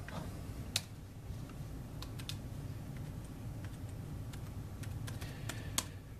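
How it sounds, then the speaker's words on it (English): Typing on a Brydge 12.3 keyboard made for the Surface Pro, with soft, steady key clicks and a few sharper taps standing out, heard close and alone in a quiet room. "we'll do a little typing test"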